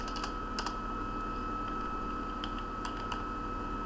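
Keys clatter on a computer keyboard in short irregular bursts while HTML is typed in a text editor, close and steady, with no voices.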